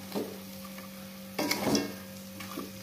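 A spoon stirs potatoes for sambal goreng kentang frying in a pan, giving soft scraping strokes and a low sizzle over a steady background hum.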